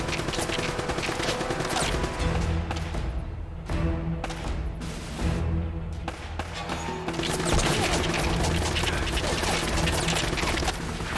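Rapid bursts of enemy turret gunfire from Uncharted: Drake's Fortune, loud sustained volleys broken by brief gaps, layered over game music and battle noise.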